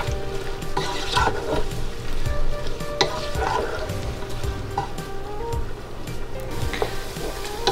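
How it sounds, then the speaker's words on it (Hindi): Onions, garlic and whole spices sizzle steadily in a hot pan while a spoon stirs and scrapes at intervals, close and fairly loud. "अब मैं इसको अच्छे से फ्राई करूंगी।"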